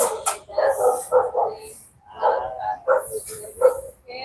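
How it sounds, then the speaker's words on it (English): Street dogs in Cebu, Philippines, bark and yip in repeated, uneven bursts at moderate distance outdoors, with one dog overlapping another and no speech. "Here comes the wild dogs,"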